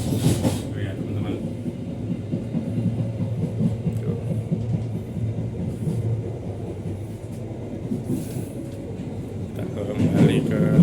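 Inside the last carriage of the Jayabaya passenger train, a steady rumble and rhythmic clatter of wheels on rails runs throughout, with a person talking over it at times.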